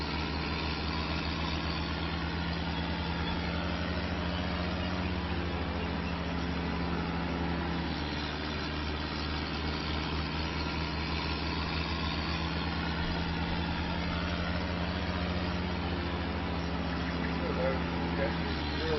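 A tractor engine in Farming Simulator 25 runs at a steady idle, a constant low rumble with a droning hum that holds for the full stretch, with a person talking over it.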